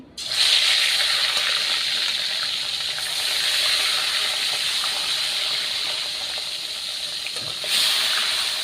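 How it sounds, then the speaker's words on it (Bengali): Rui fish drops into hot oil in a home kitchen pan and sizzles with a loud, steady hiss, the sound swelling again briefly near the end. "এদিকে আমার তেলটা গরম হয়ে গেছে, তার কারণে আমি মাছটা ছেড়ে দিচ্ছি"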